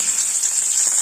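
Dry red chillies, bay leaves and whole garam masala spices crackle and sizzle in hot oil as a tempering for a mixed-vegetable curd curry, a steady close hiss with no voices.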